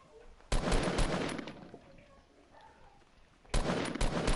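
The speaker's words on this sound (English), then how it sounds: "I'm getting shot at over here." Rapid gunfire from a shooter game crackles in two loud bursts, one long rattling volley, then a lull of faint ambience before a second volley starts.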